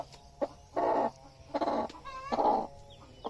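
Farm chickens cluck in several short bursts with pauses between them, close by, and one higher trilling call in the middle. No one speaks.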